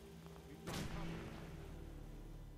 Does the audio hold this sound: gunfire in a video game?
yes